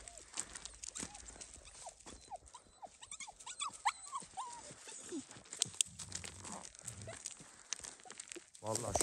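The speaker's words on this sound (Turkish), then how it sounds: "Niye hırlaşıp havlıyorlar?" Shepherd's dogs by a flock of sheep whimper and growl in a scuffle, with scattered barks and rustling movement, while faint human voices talk in the background.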